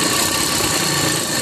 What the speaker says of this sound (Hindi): देखिए अब इसे ओपन रखते हुए रुमाली को भी हम ऊपर से सिलाई ले लेंगे।